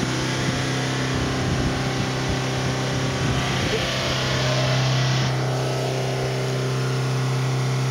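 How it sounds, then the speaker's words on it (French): Volvo S40 diesel engine idling and slowly climbing in revs on its own during a forced DPF regeneration, a steady close drone with a rising hum. "la voiture va augmenter toute seule jusqu'à 4000 tours progressivement"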